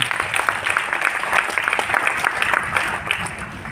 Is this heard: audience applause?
yes